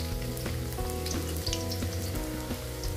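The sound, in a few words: garlic and onion sizzling in hot oil in a pan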